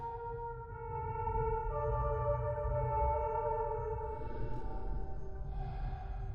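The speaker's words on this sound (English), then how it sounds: "Play the piano by the following notes." Soft, clean electronic piano tones in a video game played one after another as sustained notes, shifting pitch step by step over a low background hum.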